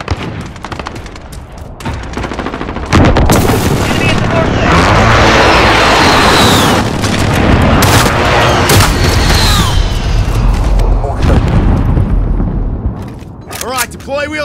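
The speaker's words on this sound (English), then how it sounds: "Be advised, friendly precision airstrike inbound." Heavy explosions from a precision airstrike boom through a Call of Duty: Modern Warfare Team Deathmatch match, mixed with bursts of gunfire, loud and sustained with rumbling impacts and intermittent in-game radio voices.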